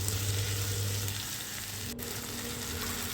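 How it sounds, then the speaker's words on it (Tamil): Tomato and salt sauté in a pan for a simple carrot pulao, a soft continuous sizzle with faint stirring, heard close and alone. "அது வதங்கினதும் ஒரு தக்காளி சின்ன தக்காளி வச்சுருந்தேன் அதை போட்டுக்கிட்டேன் இப்போ உப்பு அதை வதங்கக்கூடிய அளவுக்கு உப்பு சேர்த்துக்கலாம்"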